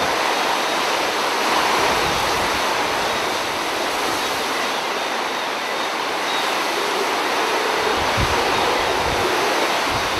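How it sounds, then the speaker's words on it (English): Hurricane Gonzalo lashes Bermuda with strong sustained wind and pouring rain running down a road, making a dense, constant roar that fills the whole stretch with no voices. "The wind is really starting to get up now. It's lashing down the road."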